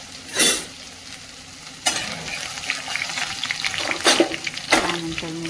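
Ginger-garlic paste and cumin sauté in a pan with a steady sizzle, punctuated by a few louder bursts of spattering as ingredients are stirred.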